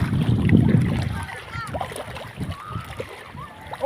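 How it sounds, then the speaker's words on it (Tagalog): Strong waves slap and splash against a small boat at sea, a heavy surge early on easing into smaller irregular splashes, with people talking over the water. "Lakas ng alon."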